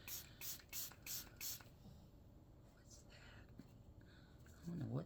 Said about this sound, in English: Let me spray my sponge.